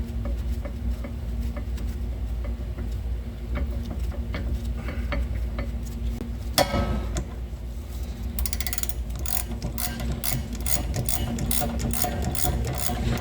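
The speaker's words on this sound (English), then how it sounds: "Then you can take your ratchet and socket, kind of tighten it up." Ratchet and socket tightening a bolt while installing a rear trailing arm axle on a Buick Encore, giving rapid repeated clicking bursts of the pawl, loudest in a steady run toward the end.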